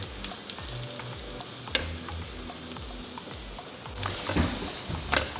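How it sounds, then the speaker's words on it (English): Homemade gorditas frying in a pan give off a soft, steady sizzle with light crackles, growing briefly louder and more spattering toward the end; no talking. "They're sizzling."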